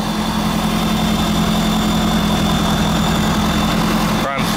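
A 2011 Ford F250 Super Duty with a 6.7 liter Powerstroke turbo diesel V8 idles with a steady, close low rumble and even hum, continuous and unchanging, with a short knock near the end.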